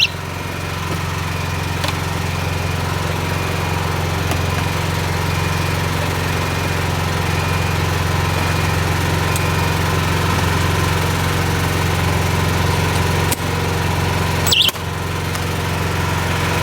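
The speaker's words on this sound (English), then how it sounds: "It triggered the e-stop, but the generator's still running." A standby generator engine keeps running after its fire-alarm e-stop pull station is triggered, a loud, steady droning hum with constant vibration, briefly interrupted by a couple of short clicks near the end.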